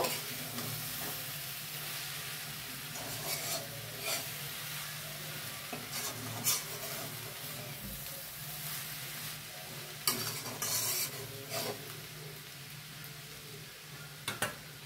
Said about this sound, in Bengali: দিয়ে আবার ভালো করে নাড়িয়ে নেব।